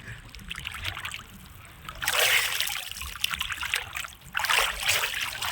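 Someone dipping into the sea water at the edge of the Sundarbans, where it meets the Bay of Bengal, sends up two bursts of splashing over a gentle background wash of water.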